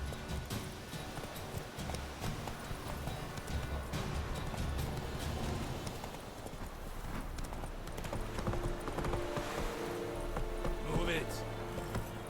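Galloping horse hooves in a Witcher video game, a steady, rhythmic clip-clop that runs the whole time over a busy background of game ambience and music.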